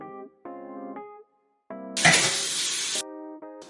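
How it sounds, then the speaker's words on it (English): Dishes being washed at a home kitchen sink while cooking breakfast: a roughly one-second burst of running tap water spraying, loud and close, set between musical tones. "I wash my dishes as I go."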